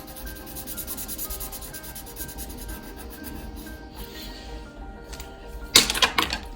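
Colouring a paper heart with a pen or crayon gives soft, steady scratchy rubbing strokes close up, followed near the end by a louder burst of paper rustling.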